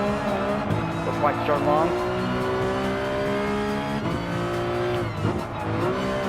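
Ferrari 458 Italia race car in Gran Turismo Sport, its engine droning steadily with rising and falling revs through turns, heard under continuous talking.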